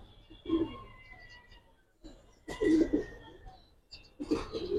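Pigeons of the Giribaz and coloured breeds cooing in a loft, three soft, low throaty coos spaced a second or two apart, fairly close but quiet, with faint background noise.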